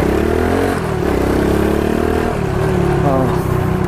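Motorcycle fitted with an Exos exhaust pipe and silencer revving at close range, engine pitch rising and falling in a few swells over a steady idle rumble, muffled rather than harsh.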